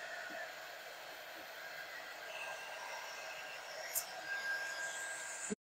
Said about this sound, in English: So I'm going to take my dryer and just make sure this is dry.